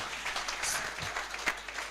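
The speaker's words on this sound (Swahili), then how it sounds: "Give them a hand clap." Audience applause at a pastors' fellowship church gathering, a short burst of many hands clapping together, fairly close and steady, with a faint voice mixed in.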